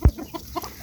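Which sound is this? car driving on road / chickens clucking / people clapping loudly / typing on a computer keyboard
chickens clucking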